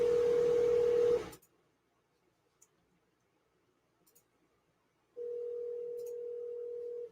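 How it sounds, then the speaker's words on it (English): Steady telephone dial tone held for about a second, then a quiet gap broken by a few faint clicks, and the same tone returning for the last two seconds, close and clean with no talk. "I gotta make a phone call."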